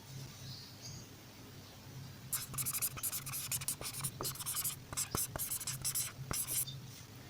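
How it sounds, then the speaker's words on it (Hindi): A pen scratches out a math solution on paper in quick, close strokes, with soft taps and short pauses between marks, faint and intimate against a quiet room tone. "तो चलें फिर यहाँ पर हम लिख लेते हैं।"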